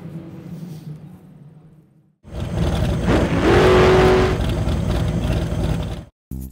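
A Formula 2000 race car engine revs up loudly and roars past nearby for a few seconds, after a quieter stretch of idling, then cuts off abruptly.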